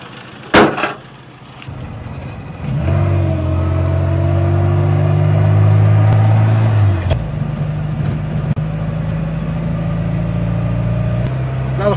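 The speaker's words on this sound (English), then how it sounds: "A lot of fun driving this car" A 1985 Austin Mini with a 1300 engine starts up with a sharp clatter, then drives along with a steady, throaty engine drone and a rising whiny gearbox tone, close and fairly loud, easing to a lower hum later.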